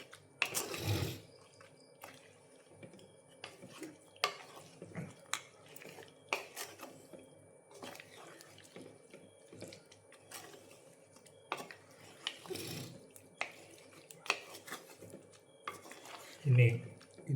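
Meat roast in a pan is stirred with a metal spoon, giving scattered faint scrapes and clinks at an irregular pace, with quiet talk in the background.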